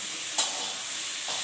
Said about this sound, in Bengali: তেলের মধ্যে কালো জিরে, কাঁচা লঙ্কা দিয়ে আমি মূলো, আলু, বেগুনটা ভালোভাবে কষে নিয়ে নুন হলুদ দিলাম